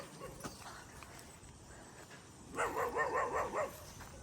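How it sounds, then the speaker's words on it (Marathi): Dogs bark in a quick cluster of several yelps near a cattle shed at a bullock-cart racing farm, moderately loud, following a quieter stretch of faint ambient noise. "कुत्रं भुकायला लागले म्हणून आम्ही तसं थांबलो"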